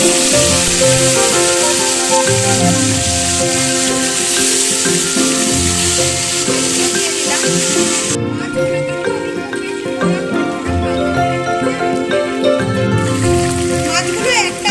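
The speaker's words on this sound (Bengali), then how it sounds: "এবার দুটো করে মাছ দিয়ে আমি ভেজে তুলে নেব।" Chitol fish pieces fry in smoking-hot mustard oil, two at a time, with a loud, continuous crackling sizzle throughout and a voice talking over it.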